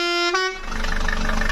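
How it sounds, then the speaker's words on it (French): A camper van's horn sounds loud and close in a sustained harmonic blast lasting about a second and a half, with a brief dip in pitch near the start. "On va allumer le klaxon."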